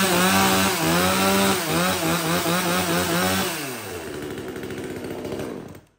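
A new mini chainsaw revs loudly at close range, its engine whine wavering up and down, then settles into a lower idle before cutting off at the end; no talk.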